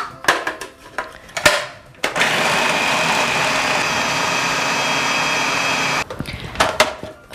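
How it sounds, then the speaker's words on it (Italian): A kitchen blender or food processor purees zucchini with water, oil and salt into a smooth cream, whirring loudly and steadily for about four seconds between clattering handling noises before and after. "Facciamo andare il robot o il frullatore finché non otterremo una crema molto morbida"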